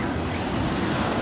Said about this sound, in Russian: Маленькая волна.